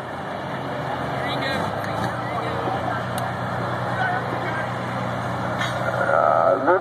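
A 2008 Ford F250 with a 6.4 diesel strains at a county fair truck pull, a steady loud engine roar with a crowd and an announcer talking over it, rising slightly at the end.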